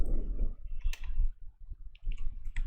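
A mouse click on an Add button while a class is being set up in software, one short sharp click near the middle with faint quieter clicks after it, close and alone.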